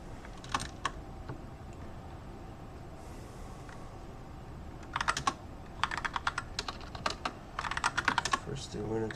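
Typing on a computer keyboard while entering network switch configuration, quiet scattered keystrokes at first, then denser bursts of rapid clicking near the end, close and clear with no talk.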